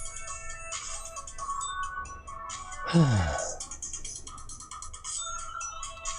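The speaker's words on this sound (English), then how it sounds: "Dot of 8 a.m. I'm getting a phone call." A phone rings in a space-flight game, its repeated electronic ringtone pattern running steadily through the clip over background hum, with a brief spoken word and a sweeping tonal swoosh midway.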